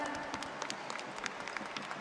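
An audience claps for a band at a Peruvian celebration, a moderately faint burst of rapid, scattered hand claps from a crowd, with no talking over it.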